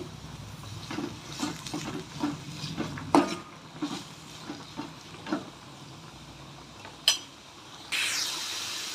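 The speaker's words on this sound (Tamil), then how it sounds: "நான் தேவையான அளவு எண்ணெய் சேர்த்துட்டு கட் பண்ணி வச்சுருக்கேன் வெங்காயத்தை இப்போ சேர்த்தாச்சு" Chopped onions cook in oil in a hot pan for an egg poriyal, with a run of soft, rhythmic utensil scrapes and taps, then a steady, brighter sizzle swelling up near the end.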